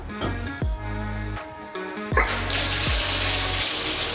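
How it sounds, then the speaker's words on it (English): Tap water runs into a bathtub up close. At first it comes in uneven starts and stops with low gurgling tones, then settles into a loud, steady, hissing rush. "Let's go fill up the water in the bathtub just in case the water, or just in case the electricity goes out"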